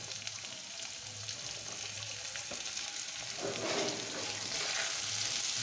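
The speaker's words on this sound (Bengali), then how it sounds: "এটা দিয়ে দিলাম, ভেজে নিই হালকা করে নিয়ে" Potatoes cut into fry-style sticks sizzle lightly in a pan, a steady close hiss with faint scraping of stirring that swells slightly louder toward the end, with no voices.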